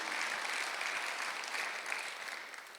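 Congregation clapping during a Sunday worship service at a Korean church, a faint, even wash of applause that holds steady throughout and tapers slightly at the end.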